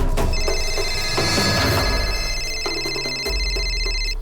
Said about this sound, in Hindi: ए, किसका फोन है?